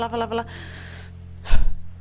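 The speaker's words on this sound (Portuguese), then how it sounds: "Aí eu respiro." An audible deep inhalation is drawn mid-speech, a short breathy gasp standing out after some talking, close to the microphone and loud.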